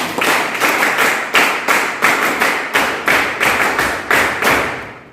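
An audience at a legal counselor training session in Indonesia performs the Kadarkum clap chant, with loud, close, rhythmic group claps landing in regular patterned bursts, roughly two per second, with pauses between phrases.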